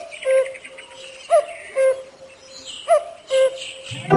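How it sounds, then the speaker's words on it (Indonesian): A thrasher's song: clear whistled phrases and short chirps repeated in separate bursts with brief pauses, close and loud against a quiet background. "Perhatikan dan dengarkan suara burung ini."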